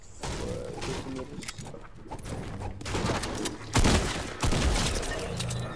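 Assault rifle fire in the video game Fortnite, a continuous dense clatter of shots and impacts with two louder heavy bursts near the end, all fairly close.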